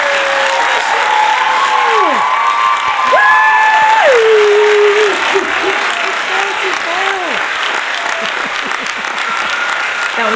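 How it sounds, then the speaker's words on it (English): Recorded applause tape of a cheering crowd plays, steady clapping with a few whoops and one shrill screamer standing out, loud throughout while whistle-like voices rise and fall over it. "I love this applause tape."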